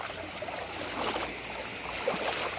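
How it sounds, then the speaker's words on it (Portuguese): Full creek running after heavy rain, a steady close rush of flowing water that fills the short stretch with even broadband noise and no speech. "Olha, pessoal, o córrego tá bem cheinho."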